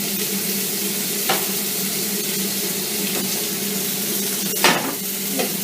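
Meat browning in a hot pan while being shaken and stirred, giving a steady loud sizzle with a few scraping clatters of the pan, close up and without talk.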